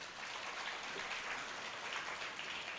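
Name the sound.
audience applause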